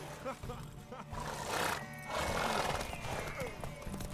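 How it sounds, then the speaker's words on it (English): Horses in The Witcher 3 whinny loudly over a rhythmic clip-clop of hooves, with shouting voices and game background sound mixed in. "Want that horse, don't ya?"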